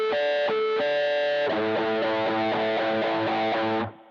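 Muted strings chugging on a heavily distorted electric guitar, a series of short palm-muted chugs with harmonic buzz, then a sustained ringing chord that cuts off near the end, played alone.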